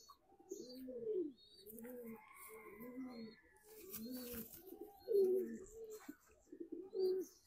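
Pet pigeons coo in a steady series of soft, rolling low calls, one after another at close range, with a few faint chirps and quiet background noise.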